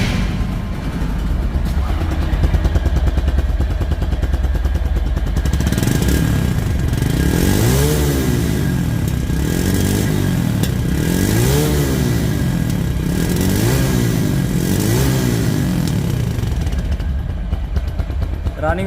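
A 2024 TVS Stryker motorcycle engine idles steadily, then from about six seconds is revved repeatedly in a regular rise-and-fall pattern, loud and close throughout.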